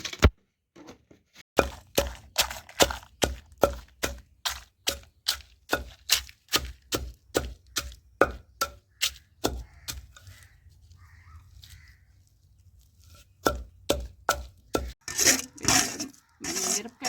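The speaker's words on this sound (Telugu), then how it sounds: "ఇప్పుడు మనం దీన్ని రోట్లో వేసి దంచుకుందాము" Dried chillies and salt pounded in a stone mortar for a tamarind-leaf chutney, a close, steady run of hard thudding strikes about twice a second, pausing briefly near the end before the blows resume, with no talk.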